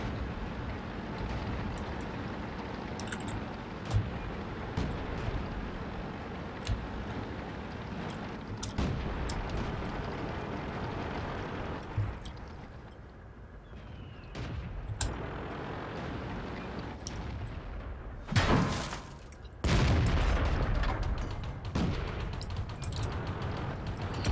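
Tank cannon fire in the World of Tanks video game: a steady rumbling engine drone with a few sharp booming shots, the loudest blasts arriving close together near the end.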